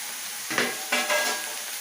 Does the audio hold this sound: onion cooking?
yes